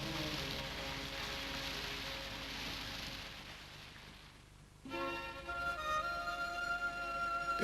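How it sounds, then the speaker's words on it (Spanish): Heavy rain in the Amazon basin hisses in a steady wash, then gives way abruptly to a different, more tonal sound, all fairly quiet and distant. "Aquí, la lluvia es un Amazonas vertical."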